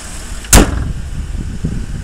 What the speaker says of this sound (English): As you can see and hear, it starts up.